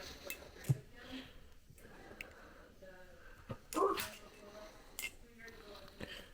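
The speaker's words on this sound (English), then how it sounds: "It's my mother's dog." A dog makes a few faint, brief snorts and sniffs in a quiet room, with one louder burst near the middle.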